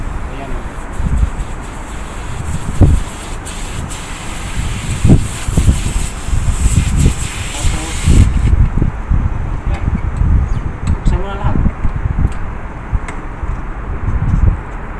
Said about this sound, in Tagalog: niluwagan mo ito ng konti, malabas yung hangin sa loob ng system sa evaporator dito